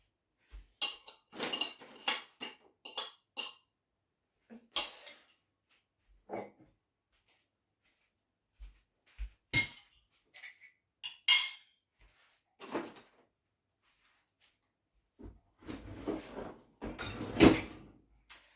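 Dishes clatter and clink in sporadic bursts as they are picked up and set down, with quiet pauses between the knocks and scrapes.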